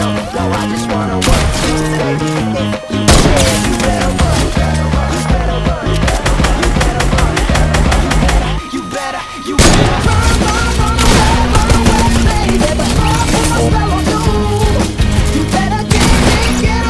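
Rapid video-game gunfire with machine-gun bursts and single shots, loud and continuous over a dense layer of game music and effects, with a short dip partway before the shooting resumes.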